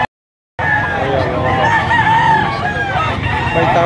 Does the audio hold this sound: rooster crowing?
yes